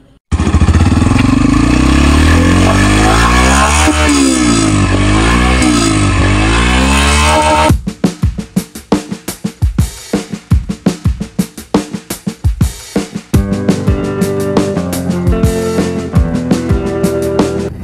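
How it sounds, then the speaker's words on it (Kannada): A Yamaha FZ V3 motorcycle's 149cc fuel-injected single-cylinder four-stroke engine revs loud and close, one long sweeping rise and fall of pitch, then breaks into a rapid popping idle with short throttle blips. "149 cc single cylinder fuel injected 4-stroke SOHC 2-valve"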